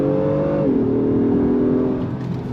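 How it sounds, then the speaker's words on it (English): A 2025 Acura MDX Type S performance SUV pulls under throttle, its engine tone dropping as the 10-speed automatic shifts up, then holding a smooth steady hum with cabin road noise behind it. "On throttle, here we go. Nice shifts from the 10-speed."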